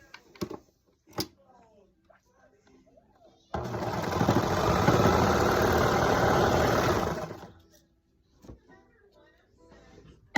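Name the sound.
serger stitching lining pieces of romper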